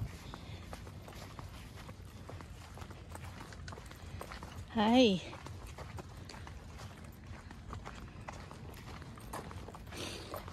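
Donkey hooves clip-clop past on an outdoor path with soft, irregular footfalls, while people talk nearby and someone lets out a brief high exclamation partway through.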